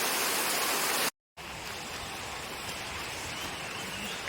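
A forest stream in the Konkan rushes along steadily under heavy monsoon rain, producing a dense, close, hissing roar of flowing water and rainfall that breaks off briefly near the start, then resumes just as strongly.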